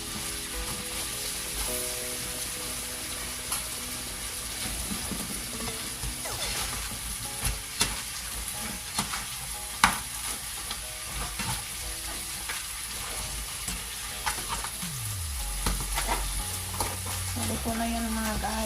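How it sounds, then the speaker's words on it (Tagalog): Tofu being stirred in a frying pan, a soft ongoing sizzle with intermittent scrapes and clinks of the utensil against the pan, moderately quiet and close, with a low rumble near the end. "Haluin natin siya."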